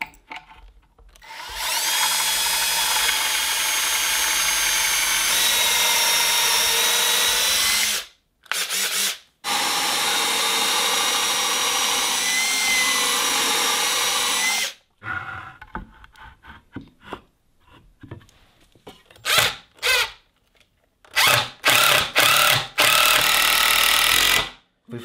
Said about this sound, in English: We're gonna drive these pocket hole screws in